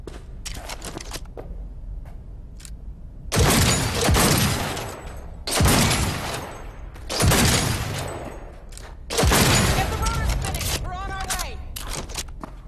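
Gunfire during combat in the video game Cyberpunk 2077, in loud sustained bursts of rapid shots that swell and fade several times over a constant background of game sound.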